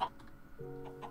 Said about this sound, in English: So it looks like it's just chickens and a minecart system